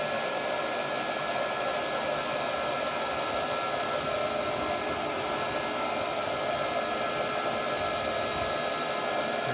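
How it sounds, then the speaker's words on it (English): A biogas blow torch burns with its oxygen valve open, giving a steady, loud roaring hiss that holds constant throughout with no break. "Slowly open the oxygen valve here."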